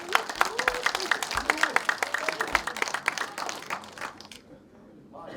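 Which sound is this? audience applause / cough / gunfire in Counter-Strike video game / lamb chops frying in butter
audience applause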